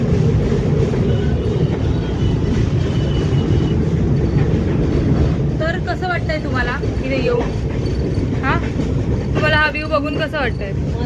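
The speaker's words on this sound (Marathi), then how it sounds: "आता ट्रेनचा आवाज आहे" A train runs steadily along the tracks with a continuous low rumble throughout, and faint rhythmic clatter and squeaks rise in the second half.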